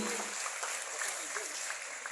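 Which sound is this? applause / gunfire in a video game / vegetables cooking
applause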